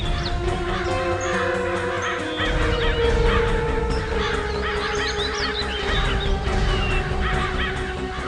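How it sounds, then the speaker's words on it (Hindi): Many crows circle over a patch of water in the jungle, their harsh caws overlapping continuously in a loud, busy chorus over a low background drone. "बहुत सारे कौवे भी मंडरा रहे हैं।"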